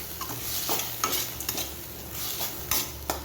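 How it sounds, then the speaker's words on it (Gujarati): A spoon stirs mung bean salad in a bowl just after lemon juice is added, giving repeated wet, scraping strokes at a steady pace, close and fairly loud. "હવે આપણે આની અંદર લીંબુને એડ કરી દઈશું અને આને મિક્સ કરી લઈશું."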